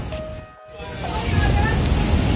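Ocean surf rolls in at Bondi Beach in Sydney, a loud broadband wash that dips briefly and then swells into a steady roar, with a voice heard over it.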